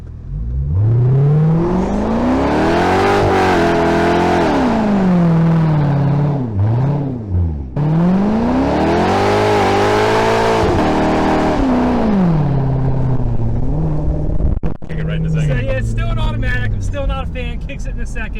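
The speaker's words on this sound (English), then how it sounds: "in celebration of having a nice car, finished car, had to light them up just a little bit. Celebratory burnout" A C6 Corvette, rebuilt after being totaled, revs hard in a celebratory burnout, its engine note rising and falling in long surging sweeps, loud and close, with a brief dip midway and tire noise trailing at the end.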